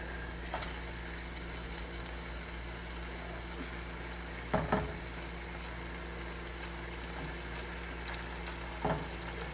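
A beef patty sizzles steadily in a pan just after being flipped, a loud continuous frying hiss with a few brief clatters from a spatula.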